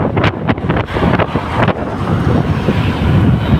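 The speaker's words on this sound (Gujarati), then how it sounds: "વરસાદી વાતાવરણ ફૂલ પવન ચાલુ છે" Strong wind during a rainstorm on a highway buffets the microphone in a loud, continuous roar with gusty surges, filling the whole clip without any talking.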